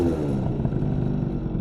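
A tuned scooter engine running steadily at low revs, a continuous close, loud buzzing drone settling toward idle with a slight uneven flutter.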